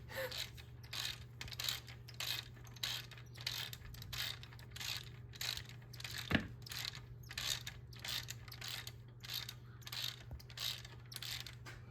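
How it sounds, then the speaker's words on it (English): A Ward's Master Quality 32-tooth ratchet is worked during a 430 MEL engine rebuild, clicking in a steady rhythm of about twenty close, crisp ratcheting strokes over a low constant hum, with no talk. "a 32 tooth ratchet, I think. Ward's master quality."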